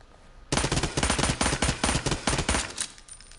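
Personal defense weapon fire in a video game, loud rapid automatic bursts starting abruptly and rattling continuously for about three seconds before tapering off, with no talking.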